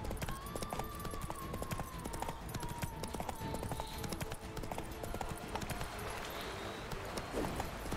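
Horse hooves gallop in the video game The Witcher 3, a steady, rhythmic clip-clop running the whole time over game ambience, with faint voices now and then.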